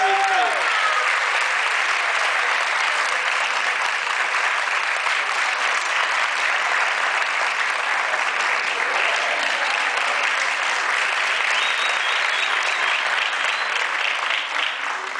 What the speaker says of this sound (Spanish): Un fuerte aplauso para Coral.